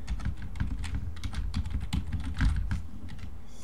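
Rapid clicks of a computer keyboard as a name is typed, close and crisp, a quick irregular burst of keystrokes running throughout.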